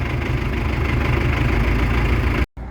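An engine idles steadily up close, a continuous low rumble that cuts out abruptly near the end.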